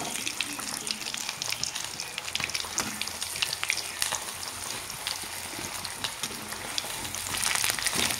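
Spiny gourd stuffed with gram flour fries in hot oil, giving a soft, continuous crackling sizzle with frequent small pops, close but fairly quiet, and no talking.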